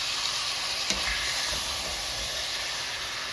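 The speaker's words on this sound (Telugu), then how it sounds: "చికెన్ వేసాం కదా, చికెన్ని మంచిగా కలుపుకోవాలి." Chicken sizzles and hisses in a hot pan for methi chicken while being stirred, with a steady frying sound and a few scraping knocks of the spoon.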